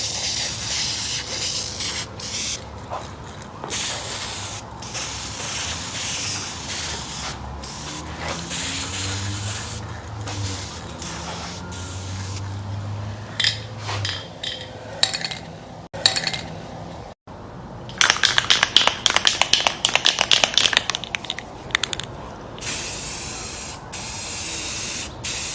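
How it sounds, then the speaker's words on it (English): Rustoleum spray paint hissing from an aerosol can onto a rusty Jeep, a series of close spray bursts of varying length with short pauses and can rattling between them. "I'm just trying to make sure I get all of it and get a light coat of everything else."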